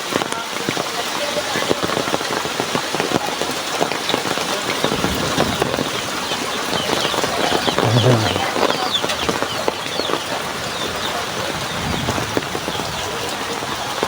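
Heavy rain pours steadily onto surfaces along a pathway near houses, a dense continuous hiss throughout, with faint birds or chickens and brief voices in the background.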